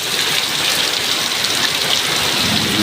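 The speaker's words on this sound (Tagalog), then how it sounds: "Grabe yung buhos ng ulan, no?" Heavy rain pours down hard with strong wind, a loud dense continuous hiss and roar with no breaks.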